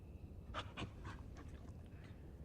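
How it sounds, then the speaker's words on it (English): A Shiba Inu in a video game pants in quick, airy bursts, several short breaths in a row, faint and set against a low background rumble. "Shiba Inu are cute dogs they are"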